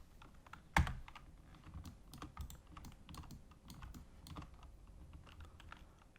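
Computer keyboard keys are pressed, including Tab and Ctrl B shortcuts, during edge-bevel modelling of a wall and doorway: scattered soft clicks at irregular intervals, with one sharp, louder press near the start, close and quiet.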